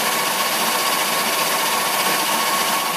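Wood lathe spinning a turned piece while a chisel cuts through it, a steady loud broadband whirring and scraping hiss that holds evenly for the whole stretch with no speech.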